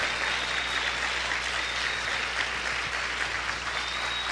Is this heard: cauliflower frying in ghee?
no